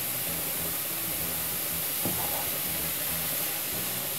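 Grated carrots fry in ghee over medium heat for gajar halwa, giving a steady, even hiss that runs without a break, with one faint clink partway through.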